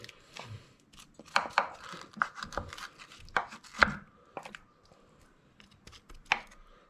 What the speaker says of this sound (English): I'm just going to give that a bit of a prod down around with my wooden spoon there.